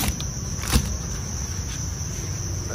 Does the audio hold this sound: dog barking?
no